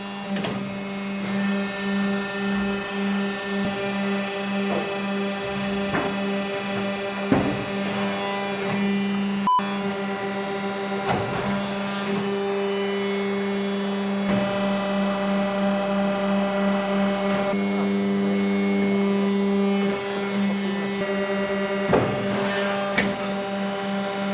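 A scrap baler machine runs steadily while crushing scrap, a loud continuous mechanical hum and whine with occasional knocks and clunks throughout.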